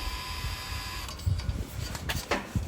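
An electric parking brake motor on a crash-damaged car runs to unlock after its polarity is reversed. A faint steady whine gives way to a close, irregular run of mechanical whirring bursts and low knocks.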